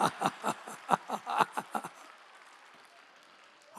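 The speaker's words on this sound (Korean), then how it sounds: "박수!" A church congregation at a Sunday worship service claps in a brisk, rhythmic burst of about a dozen sharp claps, then the sound falls away into quiet room tone.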